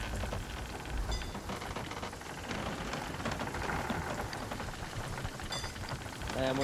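Heavy storm rain at sea in a video game, a dense steady roar of downpour that stays loud and continuous throughout, with faint voices and game noise mixed underneath.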